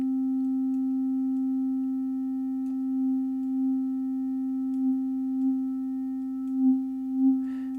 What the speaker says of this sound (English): let's have a listen to what phaser does. This is my sine wave.